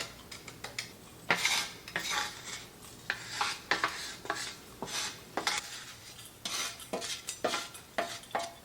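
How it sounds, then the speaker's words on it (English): A spatula scrapes and taps against a jar while breaking up freeze-dried coffee powder, giving a close, irregular series of short scraping and clinking strokes with brief pauses between them. "I'm just breaking it up a little bit with my spatula here."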